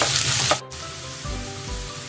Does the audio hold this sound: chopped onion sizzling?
yes